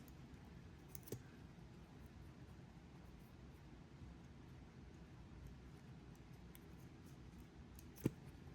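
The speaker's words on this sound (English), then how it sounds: "now I'm going to cut this cord" Scissors snipping through a jewelry cord amid a faint hiss, two crisp, isolated cuts, one early and a sharper, louder one near the end, with no talking.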